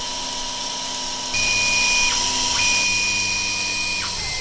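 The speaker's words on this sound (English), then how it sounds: "And that's another one drilled." A drill bores into a small Mini Minor water connector while mist coolant sprays on it, giving a loud, high machine whine that shifts pitch as the drill works, over a steady motor hum, with no talking.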